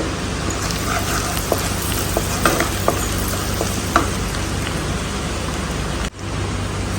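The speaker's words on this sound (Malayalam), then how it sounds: "വെളുത്തുള്ളി ഇഷ്ടമുള്ളവർക്ക് കുറച്ചധികം ഇടാം." Garlic fries in a pan with a steady sizzle and a few scraping stirs, a dense close hiss that stops abruptly near the end.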